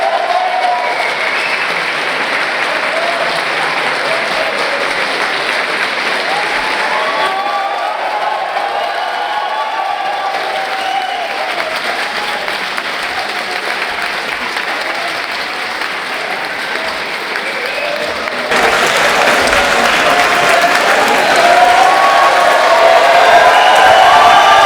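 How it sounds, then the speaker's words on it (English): A large university audience gives sustained, loud applause for the University Philosophical Society's new honorary patron. The clapping swells near the end with some cheering mixed in. "please give a warm round of applause to the latest honorary patron of the University Philosophical Society, Young Lee."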